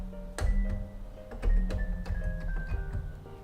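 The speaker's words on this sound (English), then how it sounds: "You want to avoid the keys that are not in the scale because it's gonna sound something like this." Out-of-scale keys played on a Patchwork synthesizer in Fortnite Creative produce a quick run of short, clashing electronic notes with sharp attacks over a low steady hum, moderately loud and with no voice.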